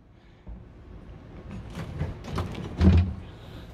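A large drawer with dividers in a 2023 Dreamer D51 six-metre campervan slides along its runners, a soft low rumbling movement that grows and ends in a muffled thud near the close.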